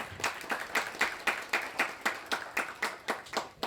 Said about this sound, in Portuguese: Palmas mesmo, para a Dona Benedita